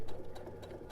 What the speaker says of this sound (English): And I'm going to sew to the other corner.